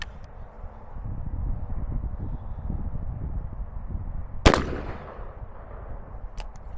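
A single loud gunshot from the bottom .410 barrel of a 22-410 combination gun cracks sharply midway, then trails off. Wind noise rumbles on the microphone before and after the shot.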